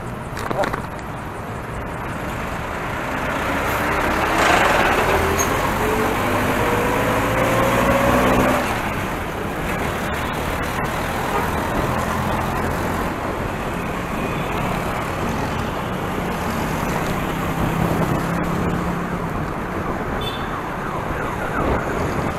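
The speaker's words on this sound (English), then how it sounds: "This place is really notorious for traffic." Busy city road traffic heard from a bicycle near La Loma Cemetery, a dense continuous roar of engines with a rising siren-like wail early on and a person talking over it.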